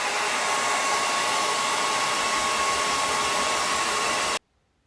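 Hair dryer blowing steadily on fresh paint on a snowman door hanger, a loud continuous whooshing roar that runs unbroken for over four seconds and then cuts off abruptly into silence.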